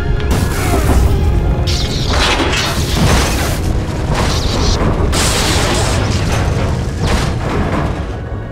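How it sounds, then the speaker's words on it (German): Stabilizer exploding in the video game Star Wars: The Old Republic, a sequence of heavy booms and crashing blasts over a constant loud rumble. "Einer unserer Stabilisatoren ist explodiert."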